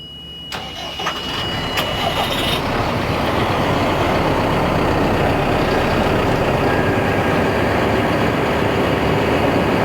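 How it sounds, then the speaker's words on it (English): A backhoe loader's diesel engine cranks and catches, then settles into a loud, steady idle and rumble that fills the rest of the clip as the center-pivot machine's stabilizer legs deploy. No one speaks. "I'm going to have our expert operators crank up and let's deploy those stab legs"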